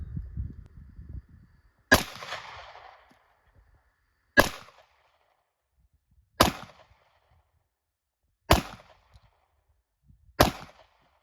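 Five sharp pistol shots from a Taurus GX4 Carry firing 147 grain ammunition on a range, spaced roughly two seconds apart, each a loud crack with a short decay, preceded by faint low rumble.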